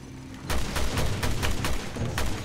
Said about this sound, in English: I'm trying to shoot the things.